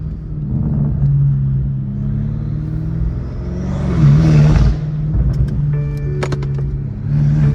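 A BMW F90 M5 Competition idles with a deep rumble, then revs up once near the middle, followed by a scatter of sharp crackles and pops from the exhaust toward the end.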